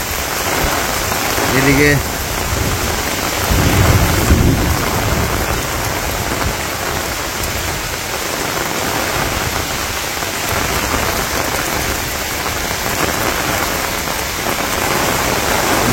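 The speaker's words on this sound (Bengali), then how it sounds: "তুমুল বেগে নামছে বৃষ্টি, ওরে আল্লাহ রে, বিদ্যুৎ চমকাইতেছে, আল্লাহ খুব বৃষ্টি" Heavy monsoon rain in Bangladesh pours down in a dense, loud, steady roar against surfaces. Thunder and lightning accompany the storm, and a person speaks briefly near the start over the downpour.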